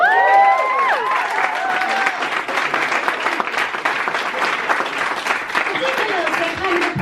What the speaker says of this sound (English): They're kind of applauding you for staying alive